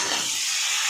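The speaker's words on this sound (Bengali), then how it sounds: "ভেজে নেব।" Potatoes frying in hot oil, a loud steady hiss and crackle filling the short moment without pause.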